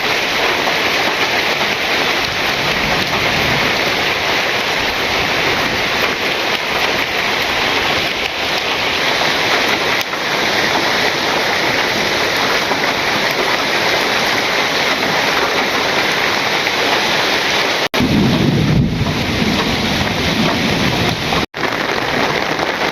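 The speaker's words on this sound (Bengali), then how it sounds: "গুড়ি গুড়ি বৃষ্টি হইতেছে, খুব জোরে বৃষ্টি না, বাতাস নাই" Light drizzling rain in a village with no wind, a steady dense patter filling the whole stretch, close and even, with a couple of brief dips near the end.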